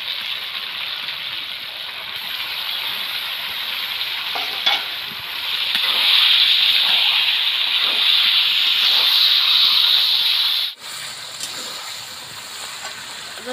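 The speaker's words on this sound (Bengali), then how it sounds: "এবারে মাংসটা আমি সুন্দরভাবে কষে নেব" Mutton pieces frying and being stirred in hot spiced oil with green chillies in a home kitchen, a steady close sizzle that swells louder midway, then drops sharply before resuming more quietly.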